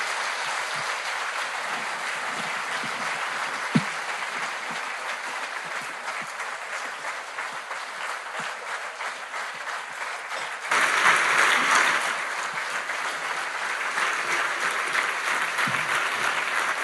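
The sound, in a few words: audience applause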